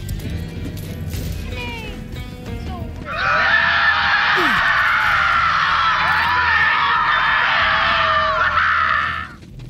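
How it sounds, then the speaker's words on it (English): Screaming in the Borderlands 3 video game: a sustained, loud, wailing chorus of cries that swells in after a quieter stretch and holds for several seconds before cutting off. "Do you hear screaming, or am I having another one of my episodes?"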